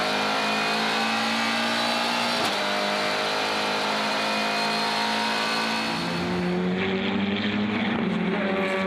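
Onboard a GTC race car at Zwartkops Raceway during a race, the engine drones loud and close with layered harmonics, shifting pitch as it revs and changes gear, a sharp gear change near the middle.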